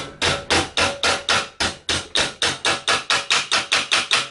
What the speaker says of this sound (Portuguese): Eu vou abrir aqui a morsa do jeito que a gente abriu, e eu vou martelando devagarinho.